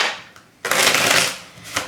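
A single quick shuffle of a tarot deck, a short crisp riffling flutter of cards close to the microphone, preceded by a brief soft handling sound.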